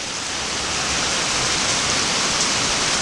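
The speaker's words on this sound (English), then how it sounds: "it's been raining long enough now that it's starting to form puddles on top of the ground" Steady rain pours down in a dense, even hiss, close and constant throughout with no voices.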